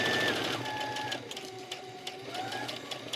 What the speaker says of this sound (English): then I'm gonna sew the rest of the way down